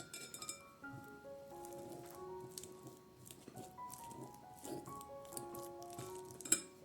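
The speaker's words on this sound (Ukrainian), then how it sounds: "беру один великий або там менших півтора чи два бананчика, розминаю їх вилочкою" Bananas are mashed with a fork against a dish, producing soft squishy presses mixed with light metallic clinks at an irregular pace, fairly quiet and close.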